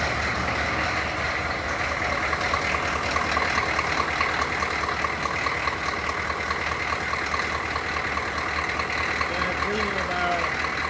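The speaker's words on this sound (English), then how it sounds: "let's start up the engine and see what's going on with the pressure." Humvee engine idling with its fan running, a steady, loud, even mechanical drone with a constant whirring hum throughout, with a voice speaking over it.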